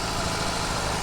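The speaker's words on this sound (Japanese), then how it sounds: "すごいボーンって、さすがボクサーエンジン、パンチが強いですね" BMW R 18 Classic boxer engine running, a dense, loud, low rumbling drone heard close and steady, with no voices over it.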